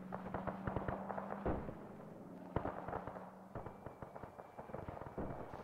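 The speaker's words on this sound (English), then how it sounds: "Incoming. Dropping some bombs." Bombs drop and burst in a WW2 video game set at Arnhem, with a rapid, faint string of distant pops and booms layered over one another.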